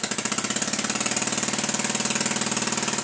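A diaphragm air engine on a thrust test stand, fed from a 2-litre bottle pressurised to 0.41 bar, runs loud and close with a fast, even stream of sharp pulses that continues steadily throughout.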